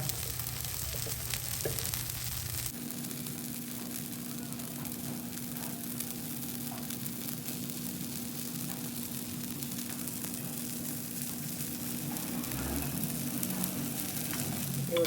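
Food frying in ghee gives a steady, close sizzle with a dense hiss that runs the whole time, deepening and growing fuller after the first few seconds, with no talk.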